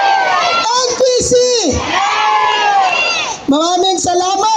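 Loud crowd at an NPC political rally meeting, shouting, whooping and cheering continuously, with several yelling voices and a brief dip before the roar resumes.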